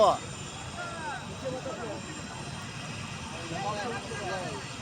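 A helicopter engine runs at a helipad in Khatra with a low, steady drone that stays faint and fairly distant, with voices murmuring around it.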